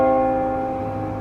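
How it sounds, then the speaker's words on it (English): Temple bells in the old quarter of Kathmandu ring out with sustained, shimmering tones, a steady resonant drone lingering loudly across the short stretch. "Bells from nearby temples echo over the chatter of vendors"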